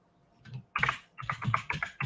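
Keys on a computer keyboard are tapped in a quick, uneven run of close, crisp clicks, a short burst of typing heard alone at low volume.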